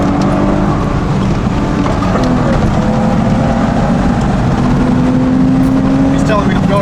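A racing car's engine in a video game set on the Nürburgring drones steadily at high revs, loud and continuous with slight pitch shifts as it speeds around the track.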